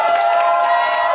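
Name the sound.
congregation cheering and applauding at a wedding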